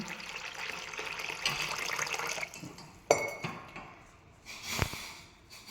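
Water poured into a vessel of sago pearls (sabudana) in a home kitchen: a steady splashing trickle for a couple of seconds, then a few sharp knocks and clinks close by, with no voices.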